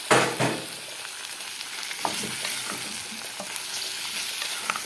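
Okra and meat sautéing together in a pan, a steady broadband sizzle with scattered stirring scrapes and clicks, close and fairly loud throughout with no talking.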